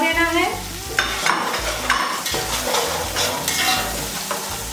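Spring onion greens, carrot and chicken are stirred and fried in a hot pan, with a steady sizzle under repeated scraping strokes of a spatula against the metal, loud and close, with no voices.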